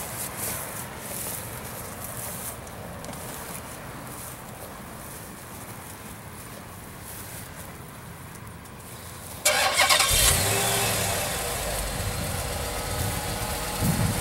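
After several seconds of quiet background, a 2007 Dodge Charger Super Bee SRT8 engine cranks and fires up abruptly, then settles into a loud, steady idle.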